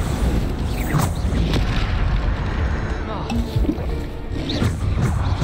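Blasting-spell explosions from Hogwarts Legacy go off again and again as a series of booming bursts. A voice talks throughout, and the noise stays dense and loud the whole time.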